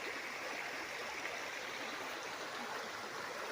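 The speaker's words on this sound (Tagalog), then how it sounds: "Tapos dito sa baba ng yung property, nandito yung ilog." A river flows below a farm property in Nagcarlan, Laguna, heard as a soft, continuous rushing of water that is fairly distant and steady throughout, with no voices.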